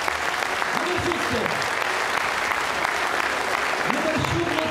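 Audience applause at a Polish political rally in Płock, steady dense clapping from a sizable crowd throughout, with faint voices and shouts mixed in beneath it.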